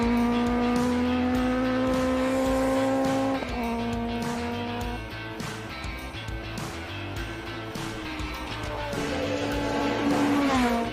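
A race car climbing the Simola hill climb course, its engine howling loud and sustained with pitch dropping on braking, then rising again as it accelerates out of the turns.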